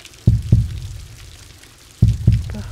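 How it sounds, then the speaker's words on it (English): Heartbeat sound effect in an audio drama: two pairs of deep, thudding lub-dub beats, loud and close, separated by a quiet pause, with no voices. "A heartbeat?"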